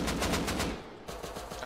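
Rapid automatic gunfire in the video game Rust, a loud close burst of evenly spaced shots, a brief pause, then a second quicker burst.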